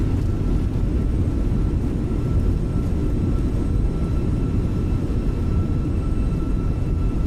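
Airliner engines roaring in reverse thrust after touchdown at Athens in Microsoft Flight Simulator 2020, a steady, loud, dense rumble that holds unchanged throughout with no talking.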